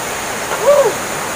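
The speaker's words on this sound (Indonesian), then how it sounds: "Kita udah nyampai di sungai." River flowing: a steady, loud wash of rushing water fills the stretch, with a brief tonal whine rising and falling over it near the middle.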